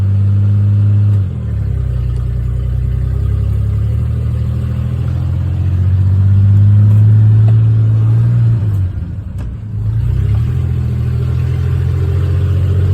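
A 1946 Hudson's engine rumbles steadily as the car eases forward in first gear, with a low, loud drone that dips briefly near the end before settling back in. No voices.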